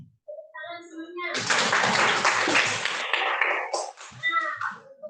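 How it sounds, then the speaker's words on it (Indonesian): A classroom group of children performs a patterned rhythmic clap routine, a brief call-like vocal opening giving way to a dense, loud burst of clapping and cheering voices that tapers into a few scattered claps. "Coba tepuk hebat."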